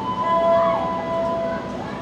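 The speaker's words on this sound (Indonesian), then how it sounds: "Tuh udah nyampe kereta apinya." A passenger train pulls into a station on the way to Blitar, its steady rumble carrying a high screeching brake whine for about two seconds with background voices mixed in.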